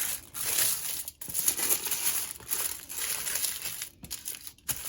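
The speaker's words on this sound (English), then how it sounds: "we're going to wrap our cardboard nice and firmly, tightly in our foil" Tinfoil is wrapped tightly around a piece of cardboard, producing close, irregular bursts of crinkling and crumpling with brief pauses between them.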